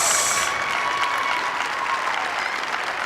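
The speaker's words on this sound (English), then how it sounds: "Everyone exhale and give them a round of applause" Audience applause fills an arena after a girls' free-throw shoot-off at a youth basketball national final, a steady, dense clapping that holds loud throughout and eases only slightly toward the end.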